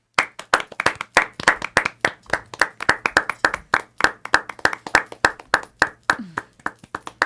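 A studio audience claps for a guest in a steady, crisp rhythm of loud individual hand claps, close and even throughout.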